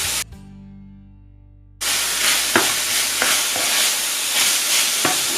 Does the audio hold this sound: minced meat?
yes